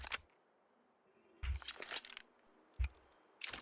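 A computer keyboard rattles during a Counter-Strike Dust II match, giving about four short, sharp clattering bursts separated by quiet gaps, each with a heavy thump.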